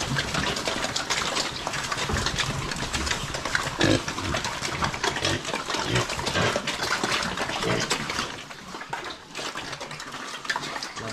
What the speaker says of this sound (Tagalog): Eating time sa ating mga alagang baboy.